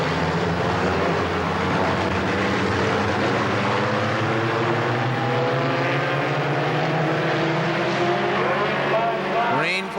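Stock cars race at Kil Kare Speedway, a loud, steady roar of several engines that shift pitch as they sweep past, with an announcer talking over it.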